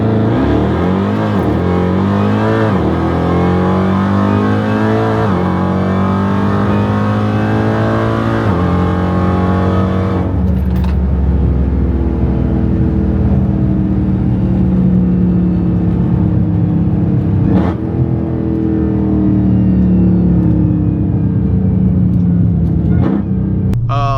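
A 1200-horsepower Dodge Charger Hellcat accelerates hard in manual mode, its engine roaring up through the revs before sharp automatic upshifts, with several rising sweeps and shift breaks and a fierce rumble between them.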